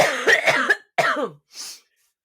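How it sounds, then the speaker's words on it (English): Three rough, harsh coughs in quick succession, loud and close, followed by a short breathy exhale. "coughing fit"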